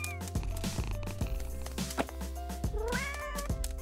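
A cat meows once near the end, a clear rising cry heard over background music with rhythmic thumps.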